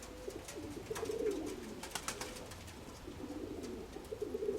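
Several pigeons coo steadily and close by in a loft, their soft throaty calls repeating over a background of light rustling and ambient noise.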